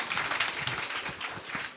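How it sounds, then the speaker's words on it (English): A short burst of audience applause for Mr. Lincoln Bain at a political candidate reveal event in Central and South Eleuthera, with dense, steady clapping throughout. "Can we give him a round of applause, please"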